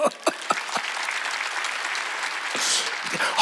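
A church congregation at a Wednesday worship service claps in a scattered, loosely rhythmic way, a few sharp separate claps at the start, then a soft, steady patter that swells slightly near the end.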